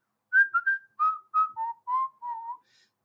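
A person whistles a short melodic phrase of about nine clear notes, the first few rising and quick, the rest stepping lower. It is close and clean against silence.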